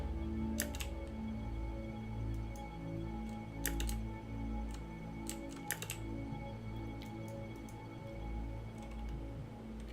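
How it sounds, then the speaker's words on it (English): Computer keyboard keys clatter in scattered short bursts over a steady low hum while playing Kerbal Space Program, with quiet gaps between the clusters of presses. "And everything's now done on the keyboard."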